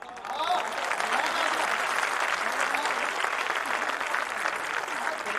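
An audience at a Hindi poetry event led by Dr. Kumar Vishwas applauds steadily throughout, a dense, even clapping from a large crowd.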